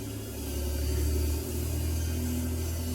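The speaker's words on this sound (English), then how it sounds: "Sorry about that noise. I think someone is weed whacking." Distant weed whacker running outdoors, a steady low droning engine hum that swells slightly and dips before continuing, faint and muffled, heard without talk.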